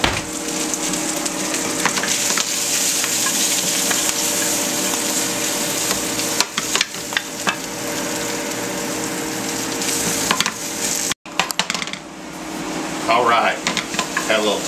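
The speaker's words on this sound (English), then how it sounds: "Sauteing our beet greens." Beet greens sauté in a hot pan with a continuous close sizzle and occasional stirring and tossing noises, briefly cut by a short dropout before frying resumes.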